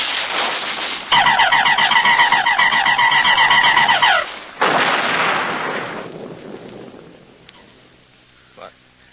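Artillery fire in a radio drama, with heavy batteries of 105s and a dome stopping the shells: loud, roaring blasts, the first carrying a whining, warbling tone, then a second blast that fades away into quiet.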